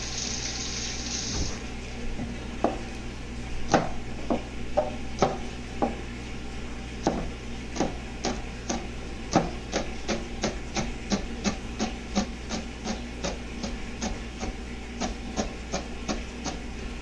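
Two green onions sliced with a knife on a cutting board, a run of sharp, evenly spaced chopping taps that speed into a quick steady rhythm, close and clear with no voices.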